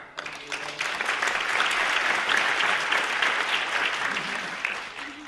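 Audience at a student film screening and talk breaks into sustained applause, a dense even roar of clapping that swells quickly and holds for several seconds, heard from within the room.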